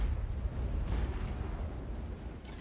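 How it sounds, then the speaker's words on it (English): An artillery shell explodes in World of Tanks, a heavy, rumbling, low boom that fills the clip and slowly fades, with no talking. "Artillery got me."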